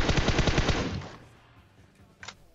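A Vector submachine gun fires in PUBG Mobile: a fast, loud burst of rapid shots for about a second, then a quiet tail and one short, sharp crack near the end.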